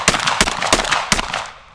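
Mossberg 940 semi-auto shotgun firing outdoors, four loud, close booming shots in quick succession with short gaps between them. The last blast's tail fades away at the end.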